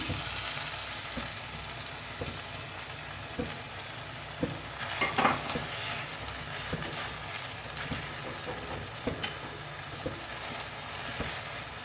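Desi ghee sizzles with mashed keema in a pan over a raised flame, a steady close frying hiss with occasional stirring clatters and scrapes throughout.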